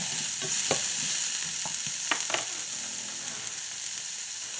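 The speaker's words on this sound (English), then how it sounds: "Let's get that frying up just a tad bit" Peppers and onions sizzle steadily in butter in a hot pan, with a few sharp stirring scrapes and pops over the constant frying hiss.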